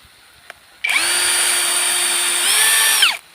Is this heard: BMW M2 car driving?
no